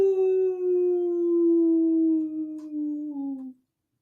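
A human voice imitates a howl, holding one long, slowly falling wail for over three seconds before cutting off into silence, close and strong.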